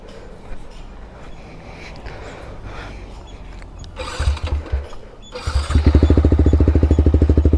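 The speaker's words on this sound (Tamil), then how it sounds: "இப்போ பைக் ஸ்டார்ட் பண்ணி பார்ப்போம்." Some mechanical clicking and faint noise, then a motorcycle engine cranks, catches briefly, and starts into a loud, steady, close-up idle.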